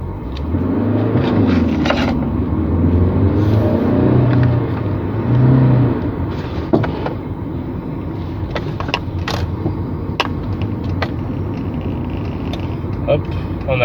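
A car drives steadily with a low engine rumble and droning road noise, a few knocks and rattles coming through near the front.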